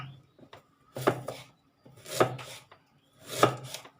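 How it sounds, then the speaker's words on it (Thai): Three bursts of knife chopping pork belly on a board, each a quick cluster of thuds and scrapes, close and fairly loud, with short pauses between. "เราต้องหั่นให้เขาใหญ่หน่อยนะคะ"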